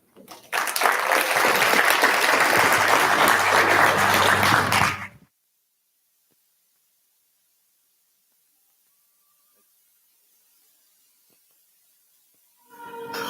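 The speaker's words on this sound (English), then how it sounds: "Once again, round of applause for Shannon." Audience applause at an innovation summit following a presentation, a dense burst of clapping lasting about five seconds before cutting to silence, with a faint voice returning at the very end.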